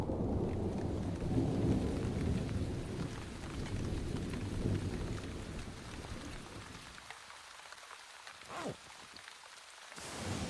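Along the Garden Route, low thunder rolls in the distance under steady rain for several seconds, then fades, leaving a quieter hiss of rainfall with a few soft taps.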